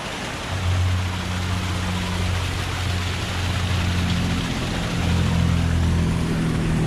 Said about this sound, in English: Loud truck right there.